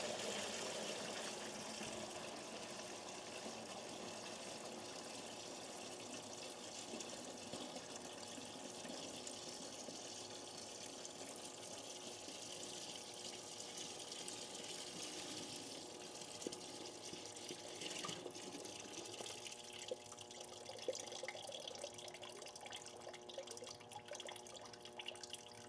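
Dirty fluid drains from a John Deere A tractor undergoing engine teardown, a steady close trickling and splashing flow that runs without pause, with no talk.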